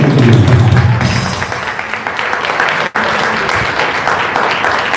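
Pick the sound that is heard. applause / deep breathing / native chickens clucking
applause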